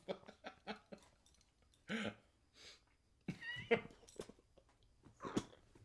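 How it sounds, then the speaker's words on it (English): A person coughs in a series of sharp bursts with short pauses, close to the mic, like a coughing fit. "Coughing attack?"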